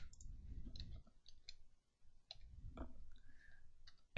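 Keys click sparsely and quietly on a computer keyboard, short scattered taps with small pauses between them.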